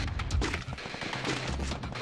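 Rapid gunfire from the mobile battle royale game Free Fire, a loud dense burst of shots with heavy low thumps packed across two seconds, no voices over it.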